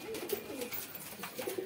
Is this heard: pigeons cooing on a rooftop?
yes